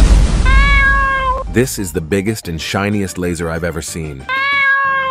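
Cartoon cat meowing in a Bloons TD 6 game animation, a long tonal meow at the start and another near the end, loud and close, with a voice talking in between.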